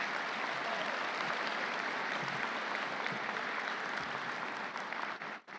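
A large audience at a university commencement ceremony breaks into a round of applause, dense continuous clapping that holds steady and then tapers off at the end.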